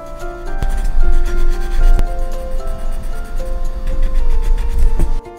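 Coloured pencil shades a blue roof in a Santorini travel sketch with quick, rough strokes, making a steady close scratching rub with repeated back-and-forth rhythm while faint music plays underneath.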